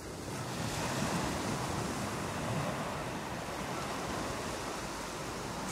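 Sea waves roll and wash continuously as steady broadband surf at moderate level, with some wind, and no voices over them.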